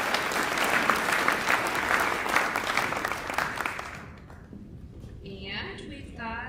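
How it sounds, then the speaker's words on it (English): Awards-night audience applauding: dense, loud clapping that keeps up for about four seconds, then dies away while a few voices continue. "Give these ladies another round of applause"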